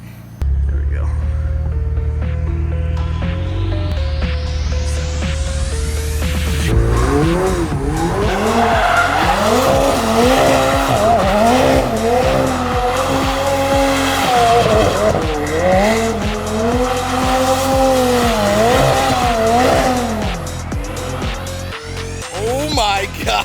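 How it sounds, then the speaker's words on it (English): A McLaren idles, then revs hard and spins donuts, its tires squealing and skidding in long, wavering howls over a roaring engine for many seconds, loud and close, with excited voices inside the car. "How many people you know have been in a car, 2 McLarens that have done donuts?"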